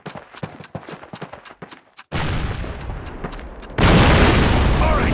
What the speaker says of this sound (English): This cannon's about to go boom.